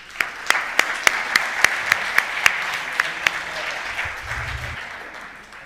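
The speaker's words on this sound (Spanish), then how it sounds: "Un aplauso," Audience applause for a speaker at a talk: a steady wash of clapping with a dozen sharp, evenly spaced loud claps standing out near the front, fading out toward the end.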